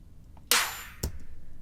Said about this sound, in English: I want kind of like a snare ambience in the background of the snare too.